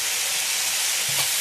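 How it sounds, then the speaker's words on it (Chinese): Stir-fried lean pork tipped into a wok with jicama, a loud, close, steady sizzling hiss lasting a brief moment. "把这个炒香的瘦肉倒下去"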